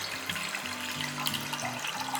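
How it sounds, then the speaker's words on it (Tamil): Water pours from a kitchen tap into a tumbler for making rasam, a steady splashing rush with soft background music underneath. "ஒரு டம்ளர் அளவுக்கு தண்ணி ஊற்றிக்கலாம்."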